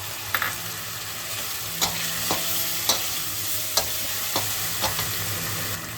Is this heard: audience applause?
no